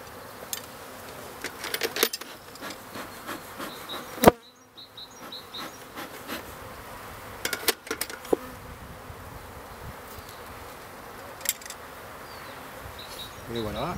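Bees swarm around a beehive frame as it is set back into the hive, a dense continuous buzz close by with sharp clicks and knocks scattered throughout and a brief hush midway.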